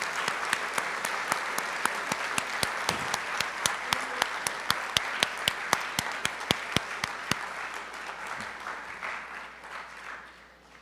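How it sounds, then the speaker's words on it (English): School board meeting audience gives a long round of applause, dense crowd clapping with a few loud, sharp close claps standing out in a steady rhythm, gradually thinning and fading toward the end. "let's give a huge round of applause to all of you"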